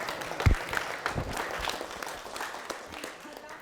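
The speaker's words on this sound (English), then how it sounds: "I think you forgot to clap for Dr. Heritage." An audience at an academic tenure and promotion workshop claps in a scattered round of applause that starts with a louder burst and then thins and fades over a few seconds.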